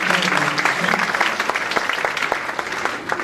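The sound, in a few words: audience applauding guests at a conference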